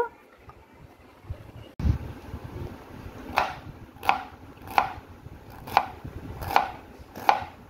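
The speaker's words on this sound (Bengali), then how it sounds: "আমি লাল আলুটাকে ছিলে কেটে ছোট ছোট করে নেব।" A knife chops a peeled red potato into small pieces on a board, about six crisp, evenly spaced thuds, each standing clearly above a quiet background.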